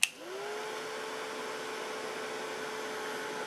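Heat tool blowing steadily while drying glimmer mist sprayed on a wood piece: a constant close whooshing airflow with a steady motor whine, starting with a brief click and holding evenly throughout.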